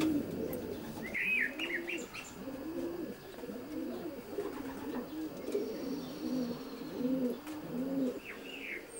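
Racing pigeons coo repeatedly inside a loft section housing a few cock birds, a steady overlapping chorus of low throaty coos with a few higher chirps, fairly close and continuous throughout.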